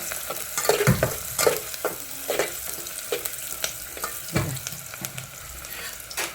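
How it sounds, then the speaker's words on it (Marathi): Onion frying in hot oil for a home-cooked chicken dish, stirred with a spoon: a continuous close sizzle broken by repeated scraping, clattering stirs in an uneven rhythm, with no talk. "तेल चांगलं गरम झाले आता ह्याला चांगलं फ्राय करून घेते बघा बघा हे सगळं चांगलं हलवून घेते"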